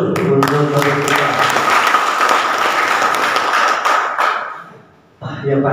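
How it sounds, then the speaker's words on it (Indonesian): Audience applause at an Indonesian panel discussion on Betawi identity, a broad steady wash of many hands clapping that fades out near the end before a brief resumption. "kita kasih aplaus dulu untuk kita"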